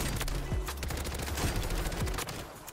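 Rapid automatic fire from the FJX Horus submachine gun with a conversion kit in Warzone, a dense, continuous burst of close, loud shots with no pauses.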